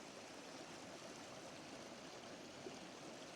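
A small river flows on Dartmoor, a soft, even rush of water running continuously and quietly with no breaks, close by in an otherwise calm early-morning setting.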